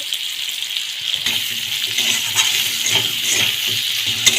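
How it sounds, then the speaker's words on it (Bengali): Turmeric powder and spices fry in a pan for a fish curry, an even hissing sizzle broken by a few stirring scrapes, close and steady with no voices. "হলদি গুঁড়ো দিচ্ছে, লাল করে একটু ফ্রাই করবে"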